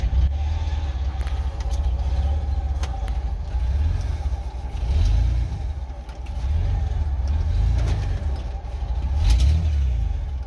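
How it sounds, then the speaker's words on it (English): A 1989 Ford F150 pickup truck drives along, its engine rumbling loud and steady with recurring swells as it accelerates and revs under load. "Let's see if I still remember how to drive this old truck."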